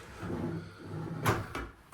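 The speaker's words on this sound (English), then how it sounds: "Even these drawers." Bathroom vanity drawers in a newly built house being opened and shut, two quick wooden slides with a thump, close by in a quiet room.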